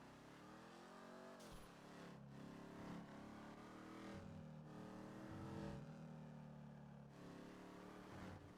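A car engine in GTA V revs and accelerates, its tone sweeping up and down through the gears, with a shift near the start and sustained throttle that stays fairly quiet and even.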